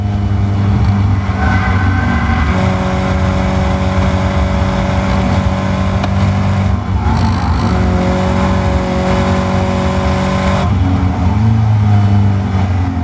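A Caterham race car drives at full throttle at Silverstone, heard from close by as a loud, steady engine drone with a gear change midway and strong rising revs through the run.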